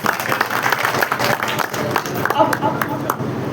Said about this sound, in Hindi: मैं चाहता हूँ एक बार जोरदार तालियां हमारे चेयरमैन साहब की ओर।